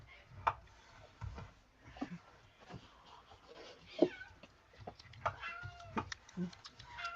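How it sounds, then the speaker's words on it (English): A cat meows a few times, faint and intermittent, amid background chatter and household noise. "I hear the meow."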